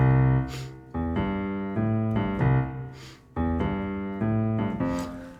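Blues piano left hand plays a repeating pattern of low chords with a counted rest between phrases, clear and close, with short pauses marking the silent beats.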